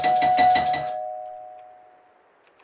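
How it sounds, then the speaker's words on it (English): A doorbell chimes in a horror video game: a ringing ding-dong tone rises over a short burst of clattering at the start, then fades slowly into near silence before a sudden loud sound cuts in at the very end. "I didn't know I had a doorbell."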